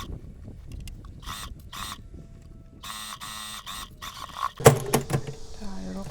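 A sewing machine stitches a sleeve hem on a front-wrap midi dress, running in several short bursts of rapid mechanical whirring broken by pauses, with clattering handling noise near the end.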